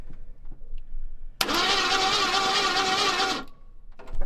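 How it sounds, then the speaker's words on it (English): A seized Jeep Grand Wagoneer engine cranks over on its starter after sitting for years, a loud steady whirring churn lasting about two seconds before stopping abruptly, close up with no talk over it. "so this thing actually cranks by the starter"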